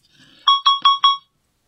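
A solderless Bluetooth speaker kit sounds four short, even electronic beeps in quick succession at power-on, clean and close against a quiet background.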